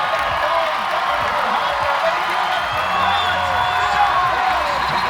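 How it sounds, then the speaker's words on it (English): Spectators at the 2023 CrossFit Games men's event cheer on an athlete nearing the finish, a continuous broad crowd roar filling the arena beneath an announcer's talk. "The crowd trying to get him there."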